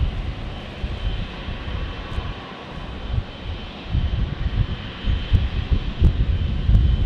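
Spirit Airlines airliner landing at San Diego airport, a low rumbling engine roar that swells gradually from fairly distant to louder and nearer, with wind buffeting on the microphone.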